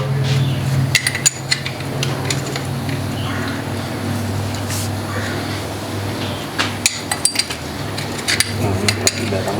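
Metal wrenches clink and tap in scattered bursts against a John Deere engine being fitted, the sharp clinks standing out over a steady low hum of a work space.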